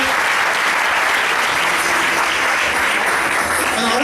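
A Spanish-speaking business presentation audience gives loud, sustained applause, a thick continuous roar of clapping filling the room from start to finish.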